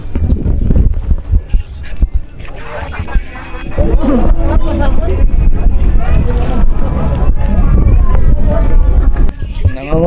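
A flatboat ferry engine on the water in Masbate City gives a steady low rumble beneath the chatter of passengers and scattered knocks, loud and close throughout.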